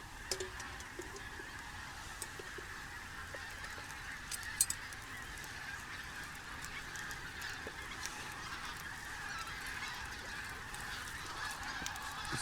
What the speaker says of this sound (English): Can you hear all these geese?